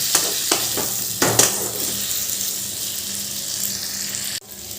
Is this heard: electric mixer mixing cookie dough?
no